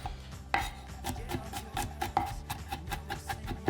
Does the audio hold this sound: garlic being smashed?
yes